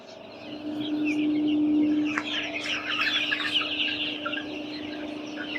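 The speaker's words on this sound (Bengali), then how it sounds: "আর মুরগিগুলো হচ্ছে আমাদের লাল।" Red hens and roosters clucking steadily at close range, several birds overlapping in a continuous busy chorus with sharper calls breaking through, no talking.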